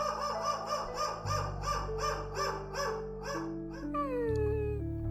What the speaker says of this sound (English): Outside, somewhere far off, a dog started barking